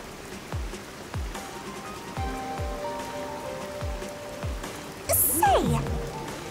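Steady rain falls in the video game Rain Code, a continuous soft patter with game tones and sound effects layered over it and a short bright chime near the end.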